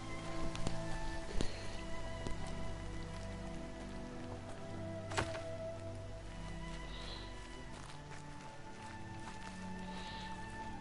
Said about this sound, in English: Rain left the trees wet and shivering.